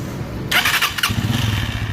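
A motorcycle engine fires up and settles into a steady, throbbing idle with a low, even rumble, close by and with no voices.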